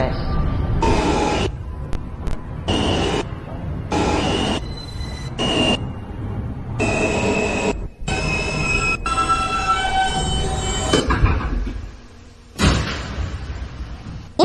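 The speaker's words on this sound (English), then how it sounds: "This is a Manhattan-bound M train." A Manhattan-bound New York subway M train near Kings Highway rumbles and hums steadily, its sound repeatedly interrupted by short gaps and a few sharp clanks, with a steady roar toward the end.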